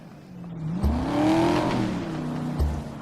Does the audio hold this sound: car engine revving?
yes